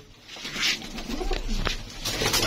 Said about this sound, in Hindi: ये जी माशाल्लाह दोस्तों कबूतर है नासिर भाई के, थोड़े से परिंदे हैं